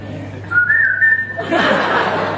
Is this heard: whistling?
yes